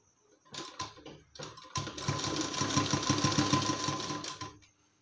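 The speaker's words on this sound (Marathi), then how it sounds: "आता मी पूर्ण शिलाई करून घेते." A sewing machine stitches a blouse sleeve: a few short starts, then a steady rapid run of needle clatter for about three seconds before it stops, close and clear with no talking.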